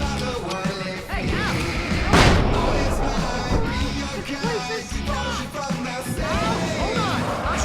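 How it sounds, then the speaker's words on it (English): Fireworks set off during a hectic fight on a concert stage in the Alan Wake video game, a dense run of booming blasts, crackles and thuds layered with game music and shouted voices. "I can set off more of the fireworks from here and help you out!"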